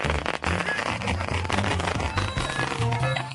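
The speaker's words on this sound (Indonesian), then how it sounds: "Siapa yang nyalain petasan?" Rapid crackling pops from firecrackers going off in a dense, continuous burst, close and fairly loud.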